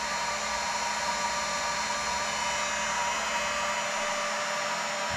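A heat gun blows at adhesive-lined shrink tubing on a fuse wire, giving off a loud, steady whooshing roar close by that holds even and unbroken throughout.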